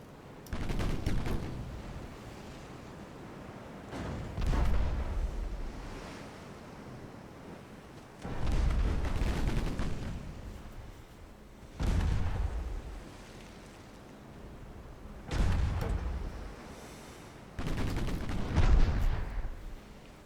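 Heavy naval gunfire from a warship battle in a strategy video game, with deep booming salvos and high explosive shells landing in about six spaced bursts, each swelling and fading into a low rumble, with no talk.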